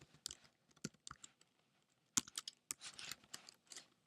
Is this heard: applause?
no